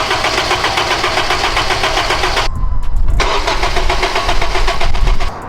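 A Makspeed turbo-kitted Honda Civic Si cranks for its first start, a loud, rapid churning starter rhythm that pauses briefly, then resumes before abruptly stopping, heard up close with no talking.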